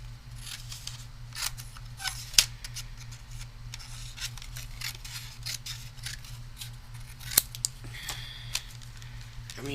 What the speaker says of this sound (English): let me just trim this down